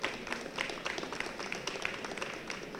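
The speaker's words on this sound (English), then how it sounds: "Let's give her a big round of applause." Applause at an LGBTQ+ kickoff ceremony in Cranford, a room of people clapping steadily and fairly faintly, an even patter with scattered sharper claps throughout.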